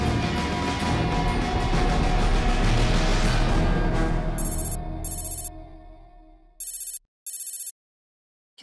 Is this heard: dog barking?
no